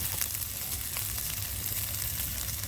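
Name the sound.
frying coriander leaves and spices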